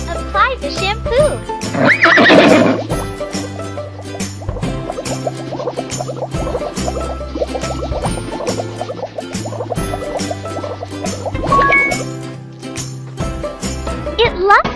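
Horse neighing in a pony care game, a loud whinny near the start and another toward the end, set against jingly background music and game effects, with a voice narrating instructions.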